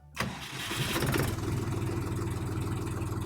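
A Dongfeng 244 DHX Chinese mini tractor's engine cranks and catches, then settles into a steady, loud, rhythmic diesel idle close by for the rest of the clip, with no talking.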